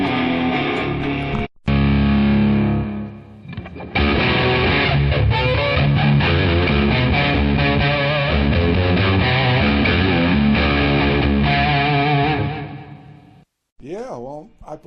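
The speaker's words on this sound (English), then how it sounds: "when you kick in the fly rig, you can get that insane distortion" Electric guitar played loud through a Tech 21 Fly Rig 5 pedal with heavy distortion, a sustained riff filling the passage with a brief break near the start and a sudden stop at the end.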